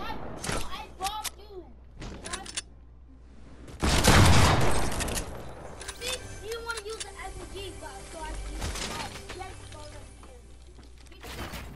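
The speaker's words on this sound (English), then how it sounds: "stop spamming that SMG" Bursts of SMG gunfire in a video game crackle between an excited voice talking over the action, with one loud, dense burst of shooting and impacts near the middle.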